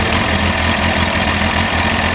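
A 2002 Kawasaki ZX636 motorcycle engine with a standard exhaust idles steadily at close range, a low, even rumble with a moderate, unmuffled-sounding exhaust note and no voices.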